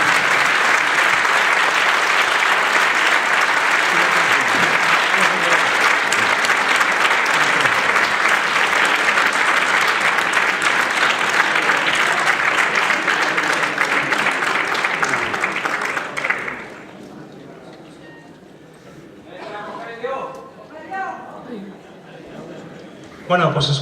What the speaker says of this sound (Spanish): Venga, un aplauso para ellos, que son muy tímidos